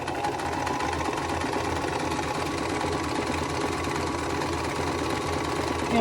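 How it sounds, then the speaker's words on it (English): A sewing machine stitching quilting fabric from corner to corner, a steady, close, continuous mechanical whirring with fast rhythmic needle chatter and no pauses. "And we're going to sew corner to corner."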